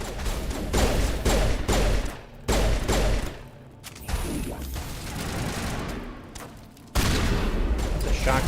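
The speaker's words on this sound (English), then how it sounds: "It's a shotgun." Shotgun fire in the sci-fi video game Mass Effect: loud, repeated blasts mixed with heavy combat noise, with bursts of shooting broken by brief lulls and a final loud volley.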